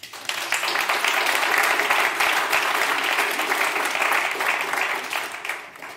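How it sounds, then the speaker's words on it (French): A church congregation applauds newly elected pastoral council members with loud, sustained clapping that spreads through the room and carries steadily for several seconds, tapering slightly near the end. "je pense qu'on peut les applaudir"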